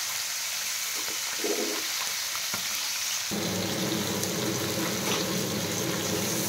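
Fish head and tail pieces frying in hot oil give a steady, close sizzle with crackling spits, growing denser and louder partway through as the pieces settle in the pan.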